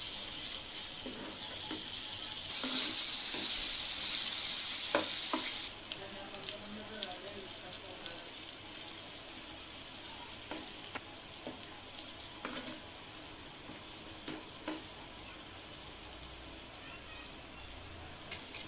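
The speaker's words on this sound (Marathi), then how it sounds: "टोमॅटो परतल्यावर यात अद्रक लसूणची पेस्ट आणि त्यानंतर काही पावडर मसाले टाकून परतवूया" Tomato with ginger-garlic paste and powdered spices sizzles and fries in a pan for a black-eyed pea gravy, with a loud hiss at first easing to a softer sizzle and occasional stirring clacks.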